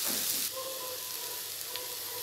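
Tomato, tamarind and coconut pieces sauté in a hot pan, giving a steady close sizzle and hiss with a few stirring scrapes and a brief louder burst at the start.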